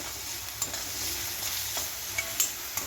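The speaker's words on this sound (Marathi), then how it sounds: "हे 1-2 मिनटं कांदा परतू जायचा." Onion sautéing with salt in a pan, a soft continuous sizzle broken by a few light scrapes and taps as it is stirred.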